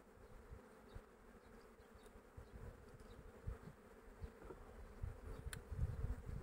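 Honey bees buzzing around a beehive during a May hive inspection, a faint, steady low drone with individual bees flitting closer now and then, no voices.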